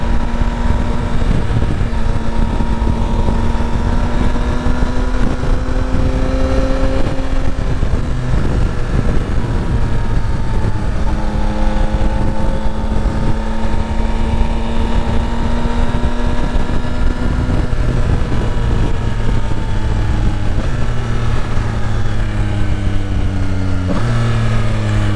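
A 2022 Yamaha Tracer 9 GT with its triple-cylinder engine hums loudly and steadily while riding, its tone rising and falling through gear changes and shifting revs, with wind rushing over the microphone throughout.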